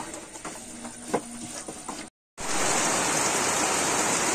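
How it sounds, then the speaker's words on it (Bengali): Heavy rain pours steadily over a Bangladeshi village, a dense continuous hiss with a brief gap before it resumes louder and fuller. "এমন বৃষ্টি নামছে বলার বাইরে।"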